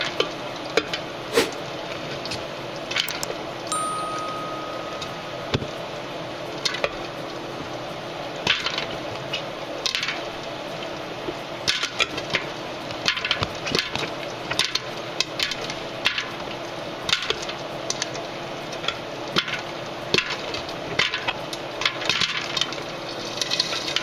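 Kernels crackle and pop in a West Bend Stir Crazy popcorn popper as the stirring rod turns, with scattered sharp pops accelerating over a continuous low sizzle and rattle, close and loud, no talk.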